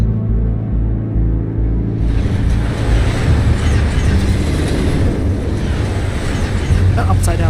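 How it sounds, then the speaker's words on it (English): A train in Batman: The Telltale Series starts with a low pulsing rumble, then surges into a loud, dense roar as it rushes past, with voices faintly mixed in. "That upside-down train is so sick."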